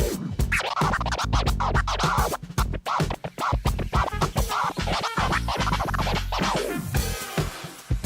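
DJ turntable scratching with a record moved rapidly back and forth in tight rhythmic bursts, dense choppy strokes following a steady beat, close and clear for the whole stretch.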